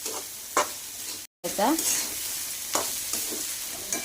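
Bitter gourd with onion, green chili, turmeric and salt fries in a pan as a spatula stirs it, a constant sizzle with repeated scraping strokes and one brief dropout.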